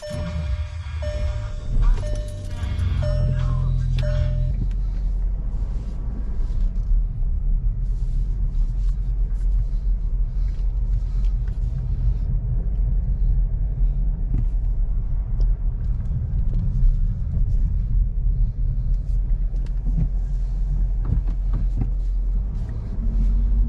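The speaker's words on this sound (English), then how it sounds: "So you guys are gonna come for a ride along the best I can with a stick shift." A VW Golf Alltrack mk7 with a manual stick shift is driven on the road, giving a steady low engine rumble and road noise throughout, with some clunks and faint beeps at the start.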